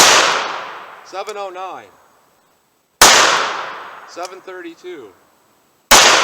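.38 Special +P revolver with a 4-inch barrel fires 170-grain lead semi-wadcutters, three sharp, loud cracks spaced about three seconds apart, each followed by a short ringing decay, with a voice reading numbers between shots.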